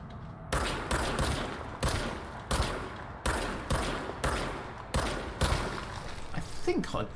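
Service Weapon fire in the video game Control: about eight punchy gunshots in an irregular, rapid sequence, each with a short reverberant tail, alongside background game noise and some talking.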